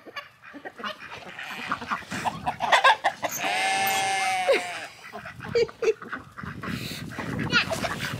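Chickens and ducks on a homestead fill the air, clucking and squawking mixed with honks and quacks, while a person talks intermittently nearby.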